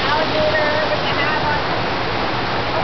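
Pumped water rushing through an artificial indoor river, a dense, steady, loud roar of flowing water throughout.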